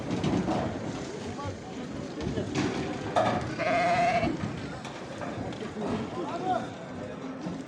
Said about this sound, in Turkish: Şuradan bir grup koyun geliyor bakalım.